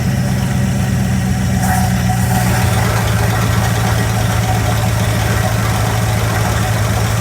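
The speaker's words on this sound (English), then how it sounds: "This carburetor's shot. You'll hear the valve train really bad." A 1976 Dodge Club Cab Adventurer truck engine idles with a worn carburetor and a noisy valve train, a loud steady low rumble with rapid ticking clatter running continuously throughout.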